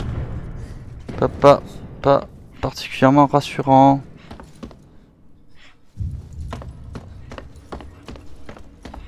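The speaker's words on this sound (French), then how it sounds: "j'entends constamment des bruits de pas" Footsteps in the horror game Alien Isolation, a run of sharp, regular thuds that carry on steadily across the whole stretch, with someone talking over the first half.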